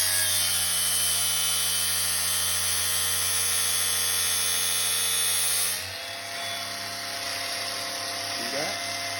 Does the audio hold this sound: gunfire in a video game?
no